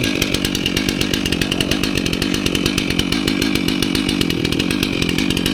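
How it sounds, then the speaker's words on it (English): A chainsaw runs steadily at full throttle, a loud continuous buzzing engine roar with a rapid rattling chain, close by and alone. "So we'll go ahead and get a chainsaw fired up."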